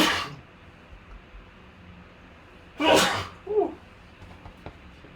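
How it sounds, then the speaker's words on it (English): A single sharp sneeze bursts out nearby midway through a quiet room, followed by a brief faint vocal sound and light background noise. "You gotta sneeze."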